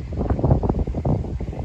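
Strong wind buffets the microphone on an open hilltop overlooking a bay, a steady low roar with gusting surges throughout and no talking.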